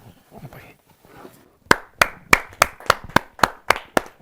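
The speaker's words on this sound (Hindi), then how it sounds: "और जोरदार ताली के साथ" An audience at a Hindi kavi sammelan poetry gathering breaks into applause, about ten sharp, evenly spaced claps ringing out close and loud after a stretch of faint murmuring.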